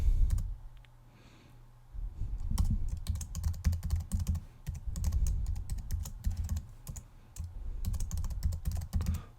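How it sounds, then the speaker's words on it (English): A password is typed on a computer keyboard in a quick, steady run of close, crisp keystrokes after a short pause, continuing for several seconds in a quiet room. "I'm going to type a new password in here."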